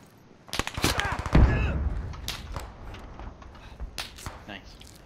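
Gunfire in the military shooter game Squad: a loud close burst of sharp cracks at the start, then scattered distant shots and echoing reports, with a voice talking briefly.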